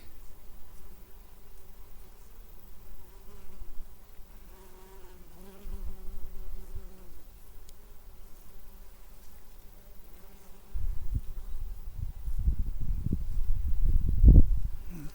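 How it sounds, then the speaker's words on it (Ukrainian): Bees buzz steadily around among linden and buckwheat honey, a droning hum that rises and falls as they pass, with louder rumbling bursts near the end. "Радує, що бджола крутиться"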